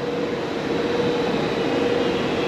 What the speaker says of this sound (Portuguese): chegando o nosso trem aí para La Espésia